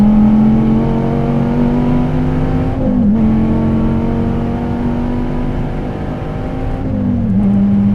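A DSC Sport tuned Dodge Viper TA lapping a race track in race mode, its engine droning loud and steady from inside the car with brief dips and pitch shifts as it shifts or eases off.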